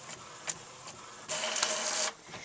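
An inkjet printer running a print job for a coloring book image transfer, faint mechanical clicks and whirs followed by a steadier, louder carriage pass, heard close with no talking.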